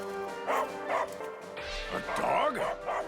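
A person imitating a dog, giving a few quick barking yips and whimpers up close, mixed with other people talking and laughing.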